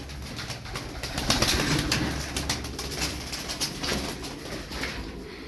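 About twenty pigeons coo continuously in a low, murmuring chorus, with a soft rustle of wings and movement throughout, fairly close by.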